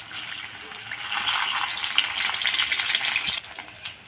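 Potato balls coated in gram flour batter fry in hot oil with a steady, crackling sizzle, then are flipped; the frying drops off sharply near the end, with a brief clink after.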